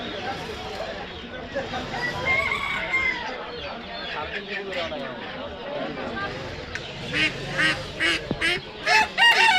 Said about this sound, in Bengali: খেয়াল করে দেখুন প্রচুর পরিমাণে আমাদের দেশি পিওর মোরগ আছে